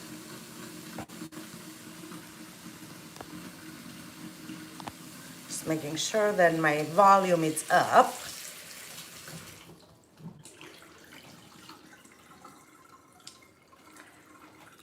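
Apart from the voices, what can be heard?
water running into a pot for boiling a potato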